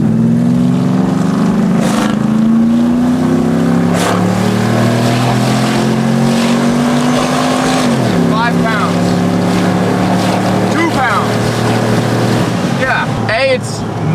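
A supercharged truck engine pulls hard under acceleration, a loud steady droning roar whose pitch climbs, dips at a shift and climbs again, with voices talking over it.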